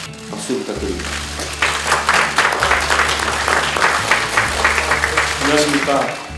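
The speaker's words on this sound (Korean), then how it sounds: "박수 부탁드립니다." An audience applauds steadily at a Democratic Party recruitment event, a dense run of clapping carried under a low amplified hum and some speech.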